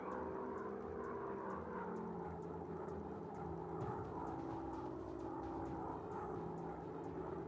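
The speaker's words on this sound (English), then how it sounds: "Now gently guide the plane over a target and order the crew to drop the bombs." WW2 bomber plane flying in the Warplanes mobile game, a steady propeller engine drone held throughout at low level, with faint repeated clicks above it and no talking.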